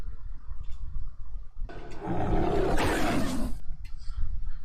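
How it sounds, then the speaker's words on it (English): A big cat roars in the film Prey, a loud, rough, broadband burst lasting about two seconds that rises out of quieter background sound and then cuts off. "Okay, so we heard a different roar there"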